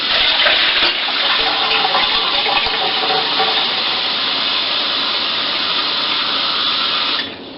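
Tap water runs steadily into a dog's water bowl, a continuous loud hiss and splash that holds evenly for several seconds before easing off at the end.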